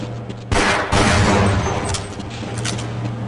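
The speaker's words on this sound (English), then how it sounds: "now we got a shotgun that can inexplicably fire 2 rounds at once" Spaz 12 shotgun in Half-Life: Blue Shift firing a double round: a sharp loud blast followed by a second heavy boom with a long rumbling tail, no talk.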